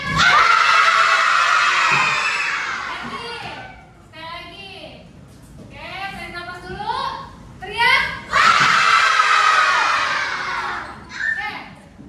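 A group of children in a school class shout together on cue, with two loud, sustained bursts of massed voices separated by a stretch of an adult talking and quieter chatter.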